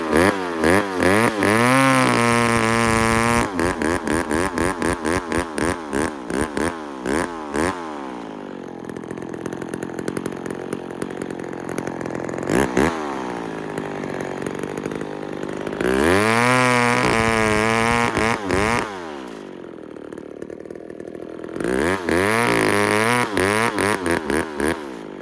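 Barn-find ProMac 55 chainsaw engine running rough like an old dirt bike, repeated loud revving bursts with pulsing, popping idle between them, close and continuous throughout, no talking.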